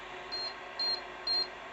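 A Vevor heat press signals that it has reached temperature with three short, evenly spaced electronic beeps over a faint steady hum.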